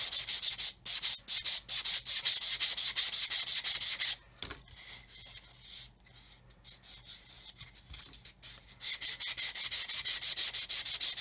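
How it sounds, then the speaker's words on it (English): Fine sponge sanding a part of a Revell 1/144 Apollo Saturn V model kit: steady rapid back-and-forth rubbing strokes, close and fairly loud, with a brief pause midway, no talking. "Now I'm going to get a finer sponge"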